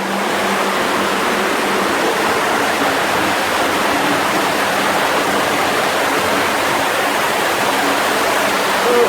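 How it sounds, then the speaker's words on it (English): Dora Creek's water rushes steadily and loudly, a continuous broadband roar like a small waterfall or fast stream heard up close, with no speech over it. "there's Dora Creek."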